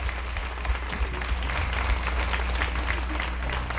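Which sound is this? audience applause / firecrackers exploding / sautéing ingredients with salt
audience applause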